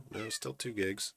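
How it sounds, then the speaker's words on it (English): A pet cat meows several times in quick succession close by, loud and insistent, while someone talks over it. "he's just meowing up a storm over there"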